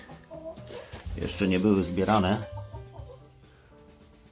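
Hens clucking inside a henhouse coop with nest boxes, a burst of loud agitated cackling in the middle that fades back to softer clucks, with someone talking quietly before and after.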